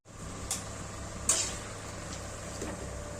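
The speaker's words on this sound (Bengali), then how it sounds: "এইভাবে লুচিগুলো সব ভেজে নেব।" Luchi, puffed Bengali flatbread, frying in hot oil with a steady low sizzle throughout, broken by a couple of brief sharp clinks of a utensil against the pan.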